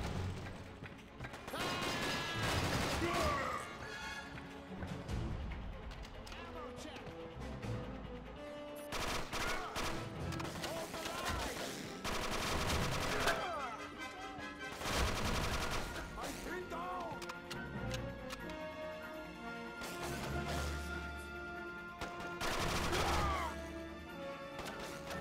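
Gunfire in the video game Quantum of Solace, repeated loud bursts of automatic shots separated by brief pauses, mixed with mechanical clanks and crashes.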